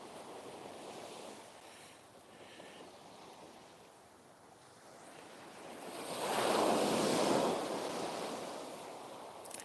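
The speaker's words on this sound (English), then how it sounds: "Never get tired of hearing that noise, do you? Waves crashing against the shore." Surf rolls and breaks on a beach at Southbourne at night, a steady wash that swells into one loud, close crash midway before easing back, with wind buffeting the microphone throughout.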